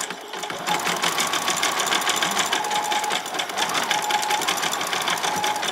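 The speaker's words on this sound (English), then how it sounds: "I'm going to do a double lot of stitching" A sewing machine runs steadily, stitching a doll's pair of boxer shorts with a rapid, even needle chatter that stays close and loud for several seconds, briefly easing and picking back up.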